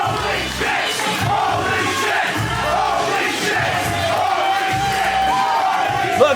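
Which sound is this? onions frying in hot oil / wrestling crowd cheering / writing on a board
wrestling crowd cheering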